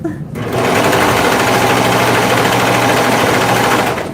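A sewing machine runs fast and steady while stitching nursing pads, a loud, close, continuous buzzing whir that starts after a brief pause and holds for several seconds.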